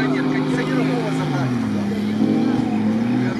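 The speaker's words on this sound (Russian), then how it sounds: "Сильно газует и себя закапывает." An off-road car, likely a VAZ-2101, revs its engine hard while its wheels dig into the ground at an off-road meet. The engine note is loud and sustained, rising and falling in pitch, with a commentator talking over it throughout.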